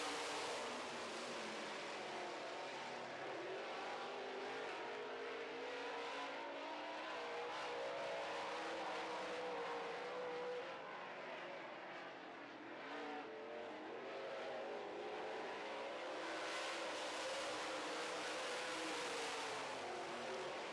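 Late model race cars roar around an oval track in a sustained, loud, continuous engine drone with rising and falling passes, no clear gaps over the whole stretch.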